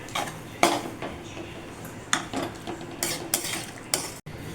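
Chopped tomatoes sautéing in a pan while a utensil stirs them, with sharp scraping clinks at irregular intervals over a faint, steady sizzle.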